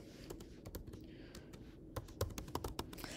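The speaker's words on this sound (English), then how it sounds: "I will type in again the name." Rapid, irregular keystrokes on a computer keyboard, fairly close and quiet, with a few louder taps bunched toward the end and no talking.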